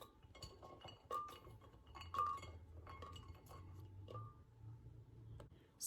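Soft clinks and knocks as lemongrass and other ingredients for a pork sparerib sour soup paste go into a glass blender jar, quiet and close, with scattered small taps and no talk.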